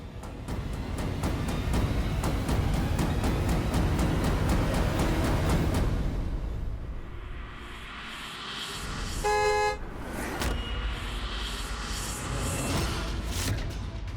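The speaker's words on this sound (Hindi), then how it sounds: "गाड़ी की आवाज।" Car horn honking in a noisy street scene, with loud traffic and bustle first, then a brief burst of honks partway through over lower background noise.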